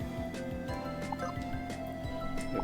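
A water bending ability fires off in a video game, with a steady stream of wet, bubbling drips and gurgles over a constant background game score.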